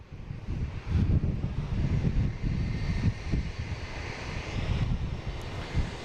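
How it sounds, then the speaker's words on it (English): A JetBlue airliner inbound from Bermuda makes a low, broad engine rumble that swells and fades over steady wind buffeting on the microphone outdoors, with no voices. "we got a JetBlue coming in from Bermuda"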